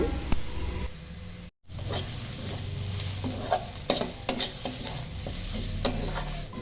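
Cauliflower paratha filling with green chilli and homemade garam masala being stirred and fried in a pan, a steady close sizzle broken by a brief gap, with scraping stir strokes throughout.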